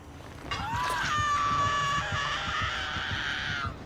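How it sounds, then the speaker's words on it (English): A drawn-out, wavering scream from a survival video game, rising sharply after a short pause and holding loud and shrill for about three seconds before cutting off, over faint background game noise. "Oh my god, that scream."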